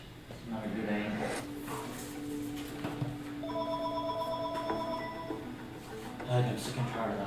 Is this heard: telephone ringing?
yes